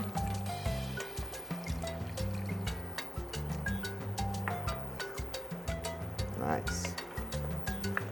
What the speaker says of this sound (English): Probably add a little more water.